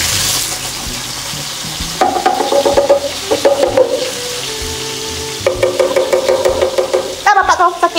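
Blended onion paste fries loudly in oil, a bright spattering sizzle that swells in bursts under steady background music.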